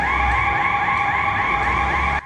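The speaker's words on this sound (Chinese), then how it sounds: "咱若到着线，警报声随咧弹" An electronic warning alarm sounds at a motorcycle road driving test when the rider touches the line, a steady warbling tone lasting about two seconds before cutting out.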